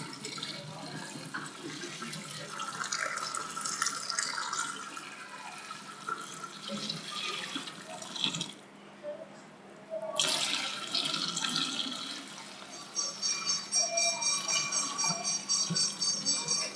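Beef trotters are washed under running tap water in a kitchen sink for a paya recipe, a steady close stream that briefly stops and then resumes, with no speech.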